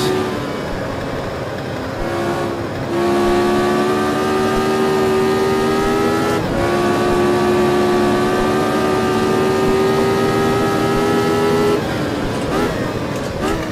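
A car engine revs up steadily as it drives, its tone climbing in pitch, then it drops back between gear upshifts, a close, sustained drone heard with a person talking.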